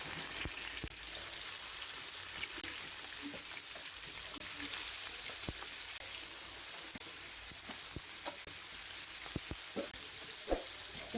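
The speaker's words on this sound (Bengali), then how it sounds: "মাছগুলো হালকা ব্রাউন কালার করে ভেজে নেব।" Pieces of rui fish frying in hot oil in a pan: a quiet, steady sizzle with scattered sharp pops and spatters, no talk.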